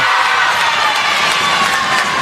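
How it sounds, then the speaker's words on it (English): The Rowville crowd and bench cheer at an under-15 girls' basketball game, a steady, loud wash of shouting and cheering voices lasting the whole moment. "that Rowville crowd's just getting going now"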